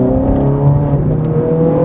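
A 503-horsepower V8 behind the cabin accelerates with active exhaust, a loud, close, rising engine drone with rich harmonics, brief and continuous, heard from inside the car.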